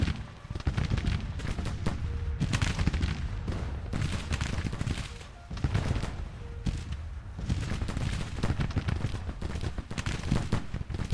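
Civil War troops firing in the strategy game Grand Tactician: The Civil War, a continuous crackle of massed musket volleys and booming shots, dense and loud throughout.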